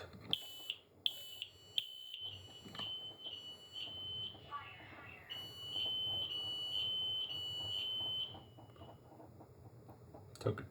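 A smoke alarm chirps repeatedly in a steady rhythm, then sounds a longer sustained beep, with some knocking and handling noises early on.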